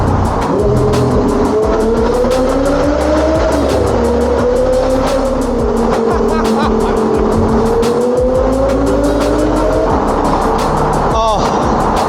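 An Audi R8 GT Spyder drives through the Hatfield Tunnel, its loud, sustained engine drone rising and falling in pitch over constant tyre roar that echoes off the walls.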